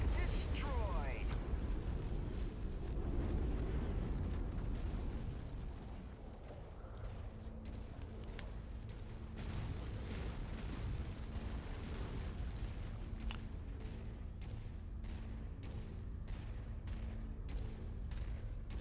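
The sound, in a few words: enemy mech exploding in a MechWarrior-style video game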